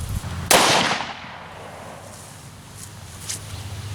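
A single sharp 10mm 150-grain hollow point pistol shot fired into a ballistic gel block cracks loudly once, then its report trails away into quiet outdoor background with faint rustling.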